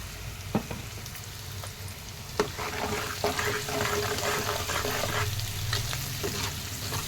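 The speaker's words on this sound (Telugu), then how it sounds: "ఉల్లిపాయలు కొద్దిగా వేగాలి బాగా వేగినాయండి" Onions frying in a pan for a prawn and bottle gourd curry, with a steady sizzle throughout and occasional sharp clicks of a spoon stirring, close and fairly loud.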